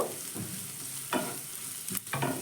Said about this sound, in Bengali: তারপরে দিয়ে দিলাম ক্যাপসিকাম ক্যাপসিকামটাকেও আমি একটু ভেজে নেব